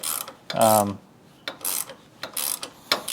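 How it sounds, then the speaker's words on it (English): Box wrench ratcheting on a bolt of an AEV rear bumper, a few short bursts of metallic clicking and rasping, close and distinct with quiet gaps between strokes. "use my box wrench, tighten this guy up"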